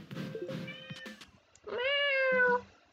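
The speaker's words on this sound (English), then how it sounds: "You come into my room, meow at me, and then go sit in the hallway." A house cat meows indoors: a couple of short, close meows followed by a longer, drawn-out meow, clear and alone with no talk.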